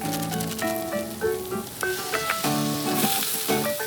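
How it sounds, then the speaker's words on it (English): Maggi Tom Yam noodles stir-frying in a little oil give a loud, close sizzle and clatter of stirring, mixed with bright tonal notes that resemble music, with no speech. "stir-fry your ingredients in just a little bit of oil and of course, the Maggi Tom Yam seasoning"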